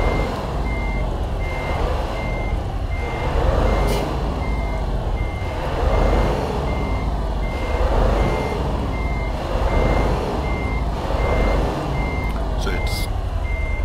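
Truck reversing beeps sound in a steady, evenly spaced series over a loud idling diesel rumble that swells and fades, heard from the cab.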